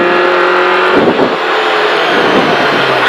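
A Peugeot 106 A5 rally car on a stage of the 2023 Rallye des Vallées, its engine loud and close at high revs, with a brief dip in the note as it shifts and then pulls hard again.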